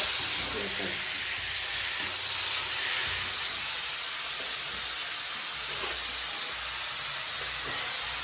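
A continuous hiss of vegetables sizzling in hot tempering oil with garlic runs throughout, with a faint high whine early on and some low background rumble.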